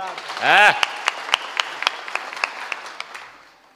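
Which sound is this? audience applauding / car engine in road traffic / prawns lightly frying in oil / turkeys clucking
audience applauding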